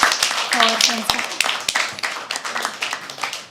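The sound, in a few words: audience applause for a poet at open mic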